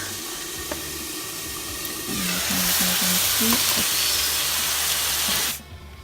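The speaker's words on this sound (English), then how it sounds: "Saute these onions on medium-high flame" Onions sautéing in a lidded wok over a medium-high flame, a loud, steady sizzling hiss that rises partway through and then cuts off abruptly, with no talking.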